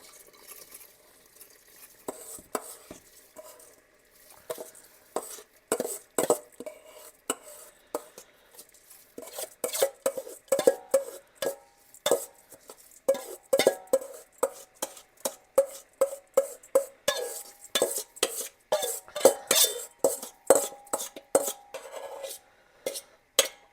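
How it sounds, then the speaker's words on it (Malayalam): Basmati rice grains rattle and patter into a metal pot in quick, uneven bursts, then a spoon scrapes and stirs, with clinks against the sides. Close and fairly quiet. "ബസ്മതി റൈസ് ഇട്ട് കൊടുക്കാം."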